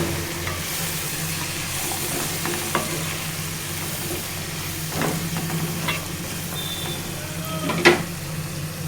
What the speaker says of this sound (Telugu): కలుపుకోవాలి.